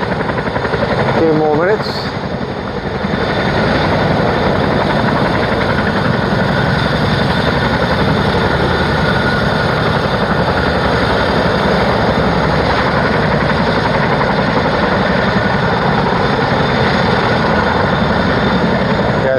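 A British Army helicopter running on the ground nearby, its engine a loud, steady, roaring whine with dense turbine rumble, while a voice speaks briefly near the start.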